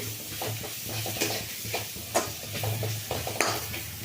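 Onions frying in a pan and being stirred: a steady close sizzle with repeated scraping and clinking strokes of a spoon against the pan, in an uneven rhythm, with no talking.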